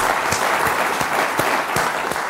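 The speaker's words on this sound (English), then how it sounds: "a huge round of applause?" A large class audience at a business school panel session breaks into a huge round of applause, dense steady clapping filling the whole stretch at full volume with no speech over it.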